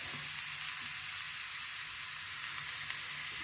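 Tomato and ridge gourd dry-roast in a pan without oil, giving a steady, soft sizzle and hiss that runs evenly throughout with no talk.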